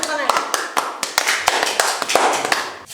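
Several sharp, separate hand claps land in an irregular rhythm over talk and laughter in a casual chat, close and fairly loud.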